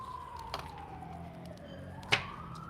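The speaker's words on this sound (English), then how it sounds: "the sirens can be very distracting" Sirens wail outside, a single tone sweeping slowly down and back up at moderate distance, broken by two sharp knocks nearby.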